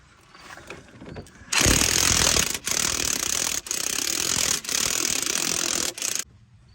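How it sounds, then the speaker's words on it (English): Vice grips twisted back and forth on a rusted sway bar link nut of a Chrysler or Dodge car, heard as loud, close grinding and ratcheting bursts repeated several times with brief pauses. "So I got vice grips on the back and I'm just working it back and forth to get the rust off of the threads."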